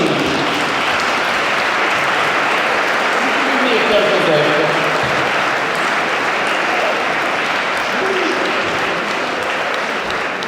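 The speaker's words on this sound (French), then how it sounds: "Veuillez les applaudir." At a recognition gala in Lanoraie, an audience warmly applauds the mayor and the priest, loud continuous clapping with scattered voices in the crowd.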